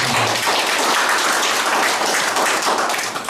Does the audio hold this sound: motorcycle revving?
no